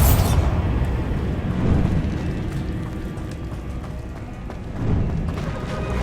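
In the wizarding game Hogwarts Legacy, a Bombarda blasting spell explodes in a dense, roaring rumble that swells twice, loud and continuous, with no voices.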